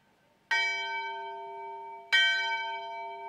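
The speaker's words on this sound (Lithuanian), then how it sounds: "pabandysime išgirsti Rumšiškių varpinės varpą" Church bell of the Rumšiškės belfry ringing, two clear strikes about one and a half seconds apart, each ringing on with a long, slowly fading tone in quiet surroundings.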